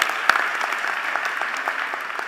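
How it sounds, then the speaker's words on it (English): Audience applause at a university presidential installation ceremony, a steady, moderately loud wash of clapping from a large crowd lasting a couple of seconds without a break. "you can give her a round of applause for that."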